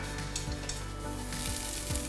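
Soaked soya chunks crumbled into mince roast in a hot pan, a short, steady sizzle with a few soft stirring scrapes, close up and without speech.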